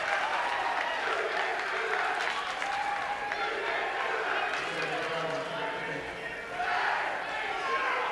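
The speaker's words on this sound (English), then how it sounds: "loud and rowdy crowd tonight. Very, very involved." A loud, rowdy crowd fills a high school basketball game between California and Versailles, with sustained roaring and cheering throughout while a commentator talks over it.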